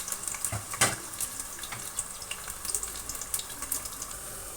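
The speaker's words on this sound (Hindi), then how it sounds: "प्याज को हम अच्छे से जो है इसको सौते कर लेंगे।" Two chopped medium onions sauté in a pan with a close, continuous sizzle and scattered crisp crackles and spits, with no voices.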